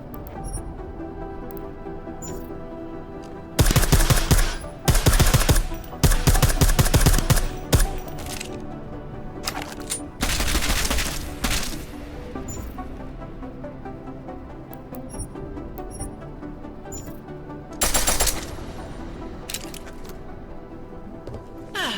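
Suppressed-weapon fire in the video game Deus Ex: Mankind Divided arrives as loud rapid bursts of shots, three or four separate volleys over game ambience and music.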